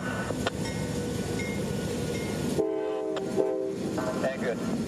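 A freight train switches cars on the Brooksville Sub, with a rumbling, clanking rail bed giving way to a prolonged horn blast, loud and fairly close.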